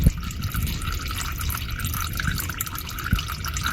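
Used motor oil draining from the oil pan of a Lexus IS350-family car: a steady, faint liquid trickle and pour with occasional drips, no voices.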